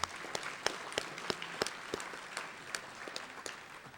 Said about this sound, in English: Let's give the media a round of applause,